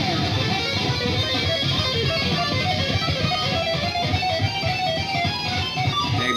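Isolated lead guitar solo track from a song, a dense, continuous distorted electric guitar line of fast notes playing alone and loud for the whole stretch, with no voices.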